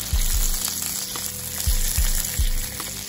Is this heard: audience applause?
no